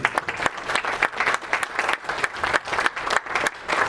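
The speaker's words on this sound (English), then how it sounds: "Can we have a round of applause for our volunteer?" Audience at a black and white portrait photography presentation applauding a volunteer, loud, close, and lively, with rhythmic bursts of clapping across the whole stretch.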